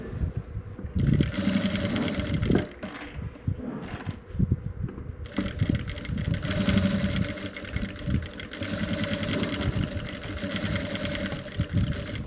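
A sewing machine runs steadily, stitching strips of fabric scraps into a patchwork rug, its motor hum continuous and close with a brief pause near the middle before resuming at an even pace.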